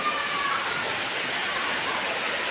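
Kakolat waterfall in Nawada, Bihar, with water falling from a height into a pool where people bathe: a steady, close, unbroken hiss and roar of pouring water.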